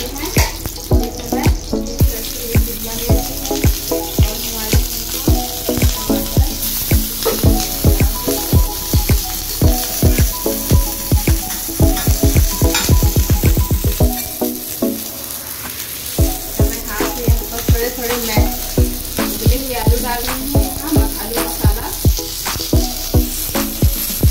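Sandwiches frying in butter in a pan, for a capsicum and tomato sandwich, give a steady close sizzle with frequent sharp crackles and scraping stirs, carrying on without talk.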